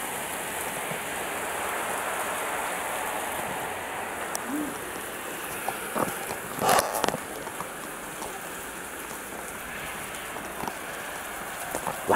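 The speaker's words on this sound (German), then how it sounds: "Mit Regen. Ja, mit Regenwasser." Steady rain falls outdoors with a constant, even hiss of drops on surfaces, joined by a few brief nearby knocks and clatters.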